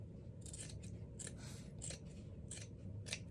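Scissors snip through upcycled denim cut from old jeans, a quiet series of about six crisp, evenly spaced cuts with no talking.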